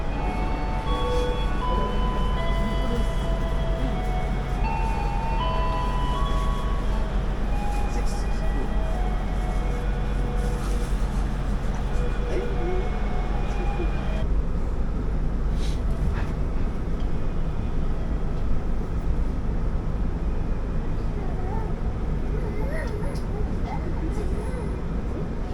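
Feeder train departing Bandung station for Padalarang, a steady low rumble with rising tonal whine from the platform, a voice announcement running over it, loud and continuous throughout.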